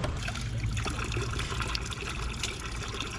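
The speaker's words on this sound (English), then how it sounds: "Supposedly there's water here." Cold spring water trickling by a road near a monastery ruin in Artvin, Turkey, a close, steady babbling and splashing flow with no voices over it.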